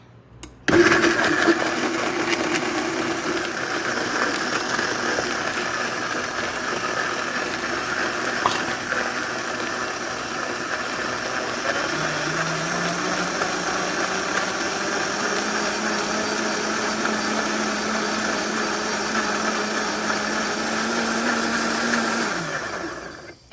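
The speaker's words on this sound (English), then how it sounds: "Start to blend it." A blender whirs loudly and continuously for over twenty seconds while blending guacamole, its motor pitch dipping and shifting as the contents churn, then cutting off.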